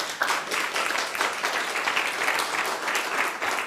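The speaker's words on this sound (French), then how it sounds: "on peut applaudir vos collègues" An audience at a hospital conference session on HospiConnect applauds colleagues after a demo, a lively, fairly close burst of many hands clapping that holds steady through the whole stretch, with no voices.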